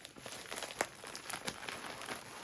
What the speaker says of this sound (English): I am just gonna outright rip this open